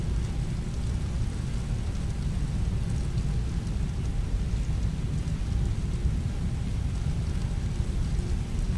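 Simulated rain in Microsoft Flight Simulator produces a steady, dense wash of rainfall with low rumbling, heard continuously with no talk.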